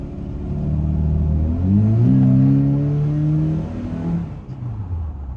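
A Toyota Tacoma pickup's 2.7L 3RZ engine revs up after an ignition coil replacement, its pitch climbing steadily as it accelerates, then eases off and fades, heard close with no talking.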